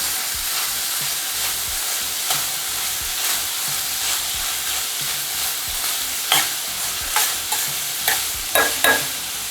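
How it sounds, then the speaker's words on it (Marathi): Thickly sliced onion frying over a full gas flame in a pan for lasooni methi: a loud, steady sizzle throughout, with a run of sharp stirring scrapes and knocks toward the end and no talking. "आता हा चांगला मिनिटभर आपण भाजून घेतला आहे कांदा"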